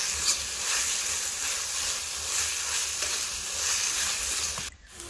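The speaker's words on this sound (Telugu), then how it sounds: "అల్లం పేస్ట్ పచ్చివాసన పోయేంత వరకు ఫ్రై చేసుకోవాలి" Ginger paste sizzles and hisses steadily in a hot kadai for an Andhra-style crab fry, a dense continuous frying noise with no talk, ending in a brief dip near the close.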